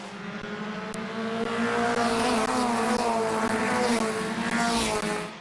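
Race cars roaring around the oval at Midvale Speedway, a steady, loud engine drone with a pitch that rises and falls as cars pass, sustained for several seconds without speech.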